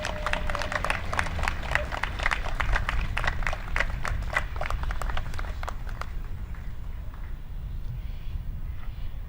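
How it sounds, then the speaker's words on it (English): An outdoor Australia Day (Survival Day) community crowd at Victory Park applauds the Young Citizen of the Year award: dense, lively clapping for about six seconds, then trailing off into quieter crowd murmur. "please give a round of applause to our Young Citizen of the Year"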